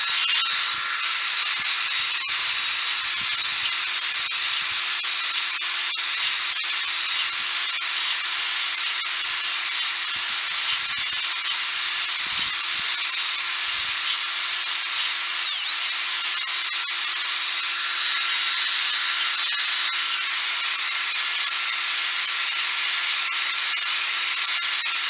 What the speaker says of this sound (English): And when you want to stop the actual honing